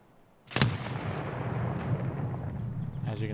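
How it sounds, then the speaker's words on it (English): A grenade blast in the video game Escape from Tarkov booms loud and close, a sharp burst followed by a long rumbling roar that lingers to the end. "he's just throwing nades, guessing wherever I am"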